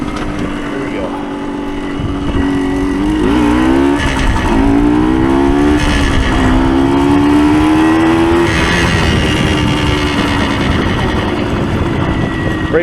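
A 1975 Suzuki TS125 Duster motorcycle rides close by, its engine rising and falling through several gear shifts as it revs out, with a rider speaking over it.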